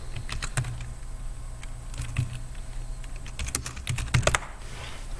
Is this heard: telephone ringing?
no